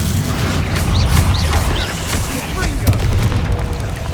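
A Bombarda spell in Hogwarts Legacy bursts with heavy, rumbling booms and dense low-end blasts in a continuous battle din, with short whooshing effects flitting over the top and no talking.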